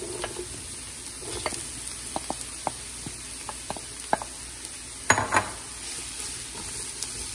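Garlic and vegetables, carrots among them, sautéing in a pan, a faint steady sizzle broken by scattered clinks and taps of a utensil against the pan.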